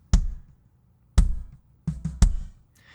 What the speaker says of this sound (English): So that's the sound of the beater hitting the drum.